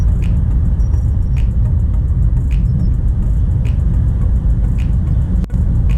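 A car drives on a road at about 80 km/h, with steady engine and tyre rumble plus road noise inside the cabin and faint repeating ticks, like an indicator, throughout.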